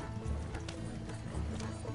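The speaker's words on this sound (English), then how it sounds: "It's your fucking horse following us." Horse hooves clip-clopping in a steady, close rhythm as a horse follows riders in Red Dead Redemption 2, with faint game ambience underneath and no talking.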